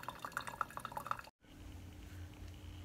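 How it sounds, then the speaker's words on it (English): Coffee maker brewing, with a quick series of faint, irregular drips and splashes into the pot, followed after a brief gap by a soft steady gurgling hiss, close and quiet. "I put like just a little divider barrier around the coffee maker while it's brewing"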